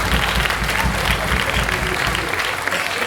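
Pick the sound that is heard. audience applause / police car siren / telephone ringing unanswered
audience applause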